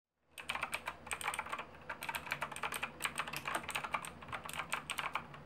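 Rapid, clicky keystrokes on a mechanical keyboard, typed steadily and close up with an uneven rhythm, no voices.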